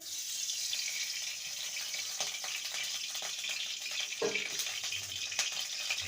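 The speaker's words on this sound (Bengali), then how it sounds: "কড়াইতে দিয়ে দেবো সর্ষের তেল" Mustard oil pours into a wok with a steady watery hiss and light crackle, close by, with no voices.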